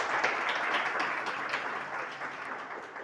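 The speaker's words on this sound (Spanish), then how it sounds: "Dele un aplauso al Señor." Church congregation applauding the Lord during a Spanish-language sermon: dense, steady clapping from many hands throughout, moderately distant and fairly quiet, with no talk over it.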